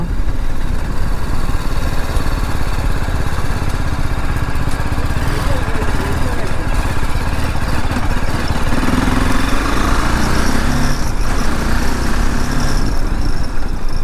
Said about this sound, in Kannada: ಸ್ವಲ್ಪ ಬ್ಯಾಡ್ ರೋಡ್ಸಿಗೆ ತೊಗೊಂಡು ಹೋಗೋಣ ಹೆಂಗಿರುತ್ತೆ ಗಾಡಿ ಅಂತ